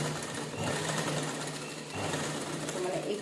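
A sewing machine stitches along a strip of lace in one steady, continuous whir that briefly dips twice, close up and loud, with no voice over it.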